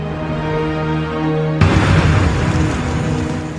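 A sudden, loud bomb blast from a documentary about the truck bombing of the US embassy in Kenya cuts through a sustained tonal music bed, followed by a dense, rumbling roar that fills the rest of the clip.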